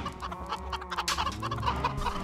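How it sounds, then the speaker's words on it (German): Chickens in Minecraft cluck in a quick, busy run of short clucks, close and fairly loud, with no talking over them. "Das sind unsere Bio-Hühner."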